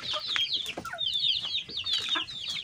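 Free-ranging domestic chickens clucking in a rural yard on an overcast day, a busy close chorus of repeated clucks and squawks rising and falling, with no voices.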